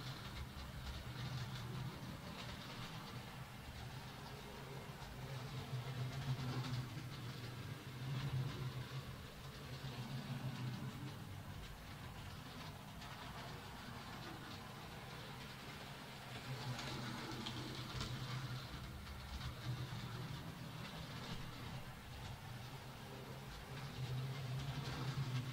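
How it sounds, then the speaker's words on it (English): An electric model train runs slowly around a track, making a continuous low rumbling whir that swells and fades in waves as it circles. "Yeah, we got a train running."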